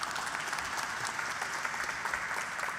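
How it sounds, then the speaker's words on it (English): Guests at a design exhibition reception at the National Museum applaud in a steady, even wash of clapping from a sizeable crowd, heard at a moderate distance. "You're getting more applause than me."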